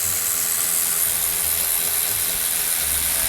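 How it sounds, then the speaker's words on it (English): A 3/8 inch ratchet with an adapter tightens a rusty bolt, giving a close, continuous mechanical clicking and grinding over a hissy background for a few seconds, with no voices. "and this is a 3/8 inch ratchet"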